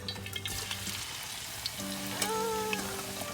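Steady frying sizzle of onions in hot coconut oil, close by, with a brief stir or clink partway through and a faint tonal hum underneath.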